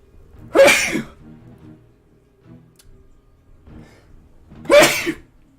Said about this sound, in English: Okay, so I'm already sneezing.